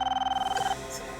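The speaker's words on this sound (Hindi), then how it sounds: "ये उन्हीं का फोन होगा पापा, उन्हीं लोगों का फोन होगा ये।" A telephone bell rings in a burst of rapid repeated trills for under a second, then stops, with faint room tone after.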